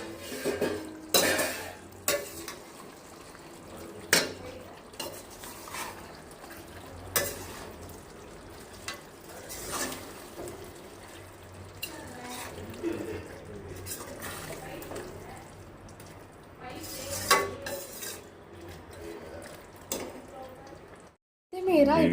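Spicy chicken fry is stirred in a pan over a low flame, with scraping and clinking of a spoon against the metal over soft sizzling, the strokes coming in irregular bursts while someone talks.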